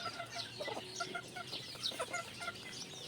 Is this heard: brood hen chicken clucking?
yes